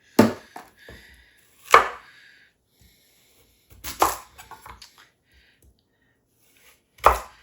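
Knife chopping a carrot for a bean soup with leftover ham, heard as a few sharp, close chops spaced out over several seconds with quiet gaps between them.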